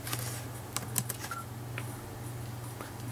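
Light clicks of typing on a computer keyboard, a handful of faint keystrokes over a steady low hum, with no talking.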